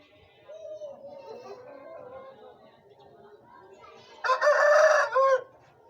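An Aseel chicken clucks softly and then lets out one loud, close crow near the end, with background chatter faint behind it.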